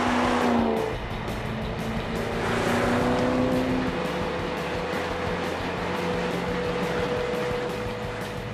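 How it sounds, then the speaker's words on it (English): A 750 HP custom Camaro SS driving on blacktop, its exhaust droning steadily and loud with a rising pitch sweep early on, over road and wind noise. "I really do dig the exhaust, man. It sounds good when you call on it"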